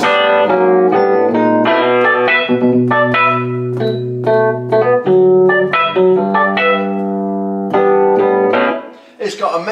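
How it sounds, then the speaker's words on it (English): Electric piano preset on a Roland FP-90X digital piano plays a rhythmic run of bell-toned chords, loud and up front, breaking off near the end. "the electric piano one, you can get a sound like this"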